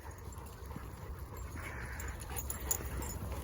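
A leashed dog whimpers and pants close by, a thin, restless whine rising and falling over steady background noise for a few seconds, with no voices.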